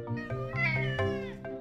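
A cartoon cat meows in a Polish-dubbed children's animated episode, giving several clear, close meows in quick succession, rising and falling in pitch, with no other sound around them.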